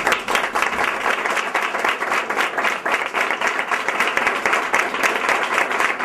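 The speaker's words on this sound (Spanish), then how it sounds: "¡Un aplauso!" Steady, dense applause from a crowd, continuous clapping at an even level throughout with no pauses.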